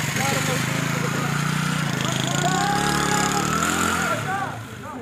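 A motorcycle in a village runs its engine with a low, steady rumble under people talking, then pulls away and fades near the end.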